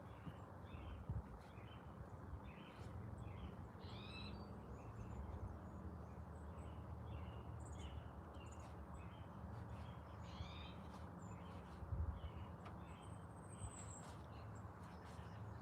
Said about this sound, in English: the birds are going off